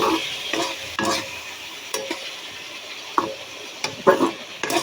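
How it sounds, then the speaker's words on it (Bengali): Potatoes fry with onion and chili in a pan while a utensil stirs and scrapes, giving irregular clattering strokes over a soft sizzle, close and fairly quiet. "পেঁয়াজ মরিচের সঙ্গে ভেজে নিচ্ছি।"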